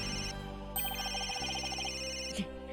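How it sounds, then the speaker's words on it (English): A cell phone rings in Ace Attorney: Dual Destinies, a repeating electronic tone pattern over the game's background music, moderately quiet, with no voices. "Where's that ringing coming from?"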